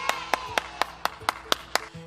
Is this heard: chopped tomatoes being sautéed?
no